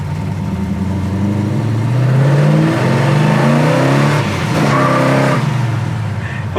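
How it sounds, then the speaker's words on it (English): A 1966 Chevelle SS V8 engine idles at about 500 RPM with a steady, lumpy rumble, rising slightly in the middle, alone with no talking. "We're only idling about 500 RPM"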